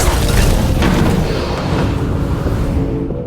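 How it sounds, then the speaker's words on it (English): A laboratory suddenly explodes in a loud, sustained boom with a rumbling low roar that rolls on for several seconds, close and filling the space before slowly fading, with no voices. "the lab suddenly exploded"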